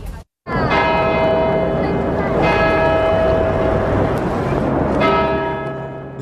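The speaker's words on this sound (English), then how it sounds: "United Kingdom's Westminster Abbey bells chimed today in solidarity with France" Westminster Abbey's church bells ring loudly in three successive rich, resonant strikes, each one decaying into a long overlapping hum that carries on between them.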